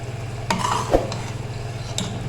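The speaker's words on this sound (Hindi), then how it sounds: "अब इसी टाइम पे इसमें डाल देंगे फ्राई की हुई चिकन, ताकि ये भी साथ ही गल जाए इसके।" Fried chicken pieces stirred into a sizzling pepper chicken masala in a karahi, with a few scraping spoon strokes against the pan over a steady low sizzle, close and fairly quiet.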